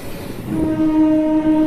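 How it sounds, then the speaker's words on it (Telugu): A Repalle to Tenali passenger train rounds a long curve on a single line, its wheels letting out a sustained high metallic squeal over the rolling rumble of the carriages, close and loud. "ట్రైన్ కరువు తీసుకుంటుంది."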